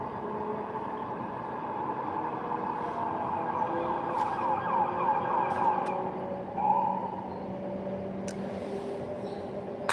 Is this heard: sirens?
yes